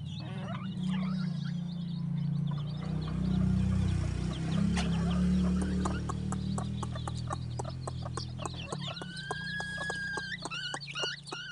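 A brood of thirteen F1 jungle fowl chicks with their hen, giving soft clucks and high, thin peeping calls that grow clearer toward the end, over a low steady hum.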